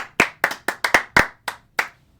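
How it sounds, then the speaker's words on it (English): A final round of applause: eight or so crisp, separate hand claps at close range from one or two people, spaced unevenly over two seconds in a quiet room. "And now, a final round of applause to everyone that made the top 10 third baseman list."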